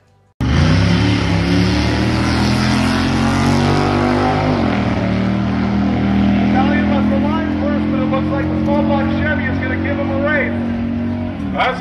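Drag racing cars roar down the strip at full throttle, a loud continuous engine drone with a gear-change dip midway, sustained for several seconds.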